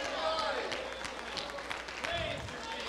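A church congregation claps and cheers through a steady, dense wash of applause during a praise service, with a voice speaking loudly over the clapping throughout.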